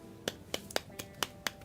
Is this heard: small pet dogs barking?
no